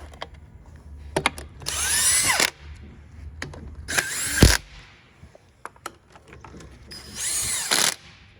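An impact gun snugs down the bolts while a 2019 Hyundai Veloster is reassembled, sounding in three close, loud bursts of about a second each, separated by short metallic clicks and knocks, with no talking.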